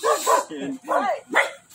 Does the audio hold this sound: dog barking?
yes